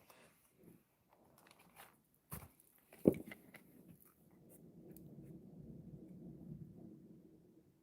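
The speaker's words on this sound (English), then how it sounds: "The hell, we've got thunder now." Thunder during a storm: a sharp crack with a brief burst, then a low rolling rumble that builds and lingers for several seconds, moderately distant and fairly faint, with no talking.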